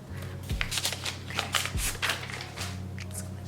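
Crinkling and rustling of protective paper being pulled off a securely wrapped purchase, a string of close, crisp rustles with a few sharper tears and crackles, steady throughout.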